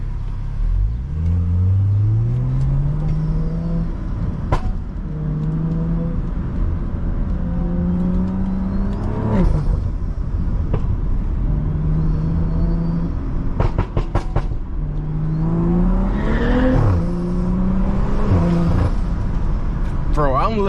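A BMW F30 engine revs repeatedly while driving, each rising pull climbing in pitch and dropping back, over a constant road rumble with intermittent cabin noise and crackles between throttle bursts.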